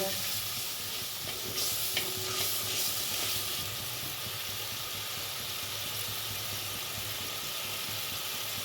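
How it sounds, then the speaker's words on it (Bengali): Spice paste with turmeric, salt and green peas frying and being stirred in a kadai, giving a steady close sizzle with scraping stirs throughout and no talk. "মশলাটা আমি ভালো করে কষিয়ে নেবো।"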